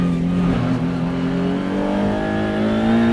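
A Maserati MCXtrema 730bhp track car engine roars continuously at high revs on a track, its pitch climbing steadily as it accelerates, loud and close with no talking.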